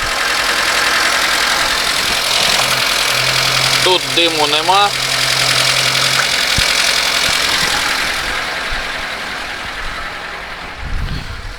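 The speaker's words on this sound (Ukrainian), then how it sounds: "Хоп, двигун працює, все працює." A VAZ car engine idles steadily and loudly close by, a constant rumbling drone, while someone says a few words briefly over it.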